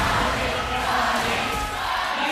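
A packed esports arena crowd at a Mobile Legends professional league match roars in a dense, sustained wall of cheering and shouting that stays loud and unbroken throughout.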